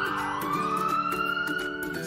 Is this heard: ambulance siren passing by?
yes